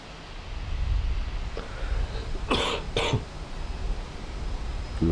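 Two sharp, close coughs in quick succession over a steady low hum of background noise, with a faint click just before them and no talk.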